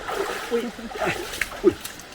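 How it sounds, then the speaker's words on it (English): Butterfly Falls pours into a big plunge pool, giving a steady broadband rush of falling water heard throughout, with people talking over it. "So there's the waterfall and the big plunge pool."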